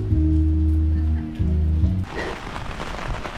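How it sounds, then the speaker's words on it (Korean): Sudden heavy rain begins pouring over an old town lookout in Thailand, a broad steady hiss that takes over after a couple of seconds, replacing an earlier low tonal hum. "비가 많이 오네. 갑자기 또 비가 내리고"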